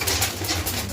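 A pigeon held in hand gives a brief, low coo, close and fairly loud against a rustling, noisy background.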